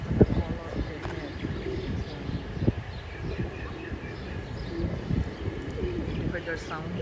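A male pigeon or dove on Maui coos repeatedly in low, throaty bursts close by, with other bird chirps and a person talking over the calls.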